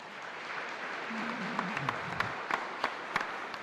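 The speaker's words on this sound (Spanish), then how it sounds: "Fuerte aplauso entonces para él" A congregation at a Mass in a chapel in Luque applauds with steady, dense clapping and a few sharper individual claps standing out, a voice briefly heard underneath.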